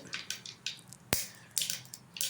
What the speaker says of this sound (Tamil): இப்போ வந்து கடுகு பொறிஞ்சிட்ருக்கு